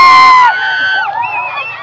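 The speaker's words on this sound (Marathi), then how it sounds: "आपण जोरदार टाळ्या वाजवून त्यांचं स्वागत करूया" Children at a village school event shout and cheer for a performance act, a loud, high-pitched burst of voices that fades into scattered whoops.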